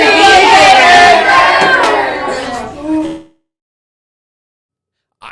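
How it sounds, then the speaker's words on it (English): Students clapping and cheering loudly at an elementary school assembly, a burst of crowd noise with whoops that fades out after about three seconds, followed by silence. "Can we give them a round of applause?"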